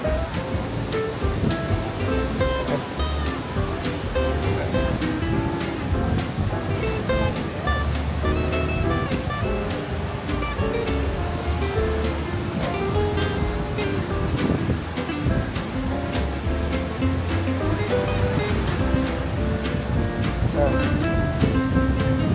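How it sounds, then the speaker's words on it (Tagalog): Ocean surf rolls and crashes steadily on a beach in Boracay, Philippines, just after a storm, a constant wash of waves with people talking over it. "Kahit katatapos lang ng bagyo, tuloy pa rin ang magandang alon."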